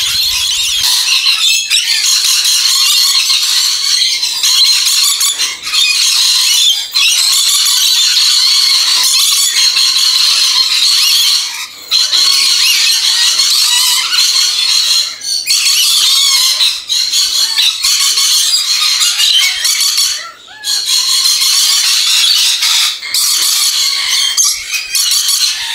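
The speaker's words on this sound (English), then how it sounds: "Look at these birds, the lorikeets." Rainbow lorikeets, including colour mutations, squawk and screech in a dense, continuous chorus at a busy feeding spot, loud and close with constant overlapping shrill calls.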